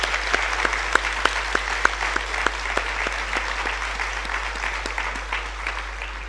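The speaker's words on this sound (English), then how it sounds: "I want to ask all of the ladies in the room to applaud all of the men in the room for being here today." An audience at a graduation exercise applauds at close range. The clapping is steady and sustained, with many hands and a few sharper claps standing out, and no voices over it.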